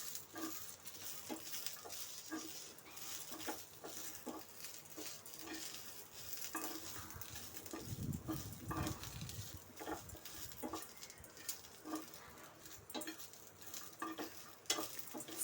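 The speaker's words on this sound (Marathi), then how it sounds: "हे आल्याचे तुकडे आहेत हे पण घालते आणि पुन्हा एकदा छान असं हे सर्व परतून घेते" Ginger pieces and garlic being sautéed in a pan for chicken rassa, a soft steady sizzle with faint repeated spoon scrapes stirring through the pan, quiet and close throughout.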